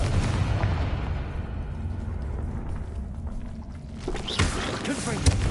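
A Confringo fire spell in Hogwarts Legacy bursting into a rumbling explosion, heavy low crackle that swells near the end under faint game ambience and some talk.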